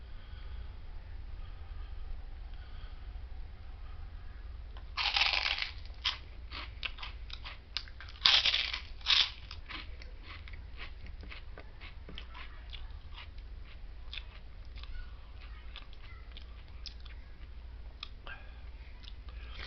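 Someone chewing pork rinds in a hotel room, close and quiet: a couple of loud crunches, then a run of smaller crisp bites and chewing over a low steady hum.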